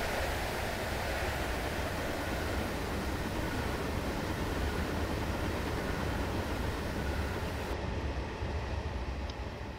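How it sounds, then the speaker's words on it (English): The American Freedom Train in Train Simulator 2017 rolls steadily through stations without stopping, a loud unbroken rumble and hiss of running gear that holds constant throughout. "this is basically an excursion train, so it's skipping all the stations"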